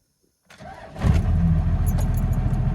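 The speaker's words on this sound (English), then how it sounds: "literally spins the engine over like one time and then just fires right up" A 12-valve diesel truck engine cranks briefly after near silence and catches almost at once, then settles into a loud, rough, rumbling idle close by, with some light metallic jingling near the start.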